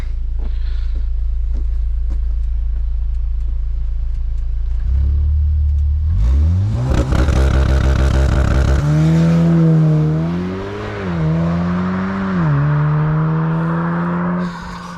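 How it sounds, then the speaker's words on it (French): A VW Golf 7R performs a launch control start, heard from outside: a steady idle gives way to a sharp rev build, then a loud roaring acceleration through several gear changes, each marked by a brief dip in pitch. "Il va nous faire un petit launch control, on va voir ce que ça vaut."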